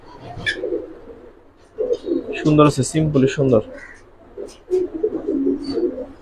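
Fancy Turinga pigeons coo on a pigeon farm, low rolling calls mixed in with someone talking close by.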